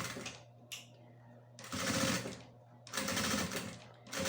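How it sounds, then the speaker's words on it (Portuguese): A sewing machine stitches with a piping foot along a crossbody bag seam in short bursts of rapid, close mechanical whirring, separated by brief pauses and a light click. "agora eu vou passar a costura com o pé de vivo"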